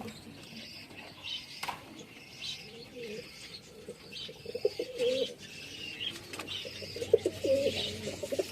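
Several Madrasi pigeons coo softly and repeatedly nearby in a village loft, with scattered chirps and an occasional flutter of wings.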